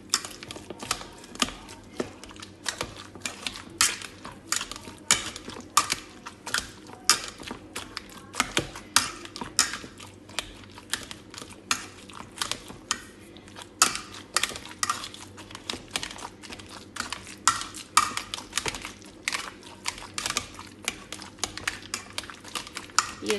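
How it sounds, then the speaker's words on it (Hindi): Roasted tomato is mashed in a bowl for chokha, a long run of quick, irregular clicking and tapping strokes against the bowl, close and steady throughout with faint background sound. "इसको पहले मैश कर लेंगे अच्छे से।"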